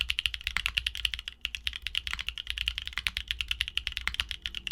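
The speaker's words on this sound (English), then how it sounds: "for those who prioritize a hyper-tactile feel and a crisp, clacky sound profile, Holy Pandas are worth the investment" Fast typing on a mechanical keyboard fitted with clacky, hyper-tactile Holy Panda switches gives a close, dense patter of crisp keystrokes with no talking.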